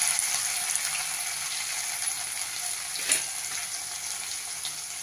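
Crushed garlic and green chillies fry in hot oil in a pan for an amaranth leaf stir-fry, giving a steady, close sizzle throughout with one brief knock near the middle and no speech.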